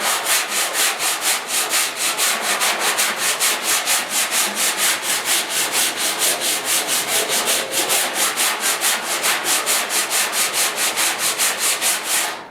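Rhythmic back-and-forth sanding of coated car cab-corner bodywork on a 1956 Mercury with 80 grit sandpaper, steady strokes about three per second, close and continuous with no talking.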